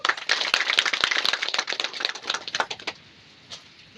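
A small audience at a cleanliness drive event for the Yuva Parivartan Foundation claps in sharp, close, scattered slaps, loud at first and then thinning out, with a last lone clap near the end.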